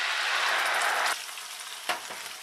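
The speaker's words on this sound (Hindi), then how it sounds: "और इस मसाले को हम 1 मिनट और भूनेंगे।" Ground masala paste with cashews frying in a pan over medium heat, a loud, close sizzle that cuts off abruptly, followed by a few soft stirring scrapes.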